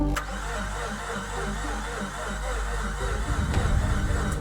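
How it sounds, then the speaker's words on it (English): A Mazda RX-8 rotary engine cranks on a failing battery, making a low, steady, sluggish starter drone up close that never fires. "That sounds like the battery is going out."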